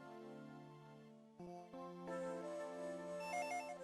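A synthesized telephone ring plays in a Dragon Ball Z video game over looping game music, coming in partway through and staying fairly loud.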